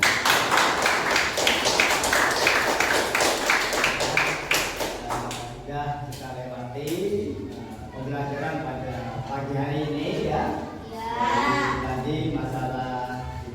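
A group claps hands on command, making a dense, fast patter of claps for about five seconds before it stops and a person starts talking.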